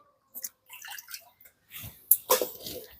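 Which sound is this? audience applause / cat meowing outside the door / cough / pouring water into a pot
pouring water into a pot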